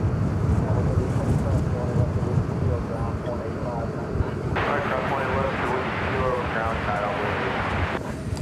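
An airplane at DFW Airport rumbles steadily at moderate distance, with a broad engine drone and some wind noise. Someone talks over it throughout.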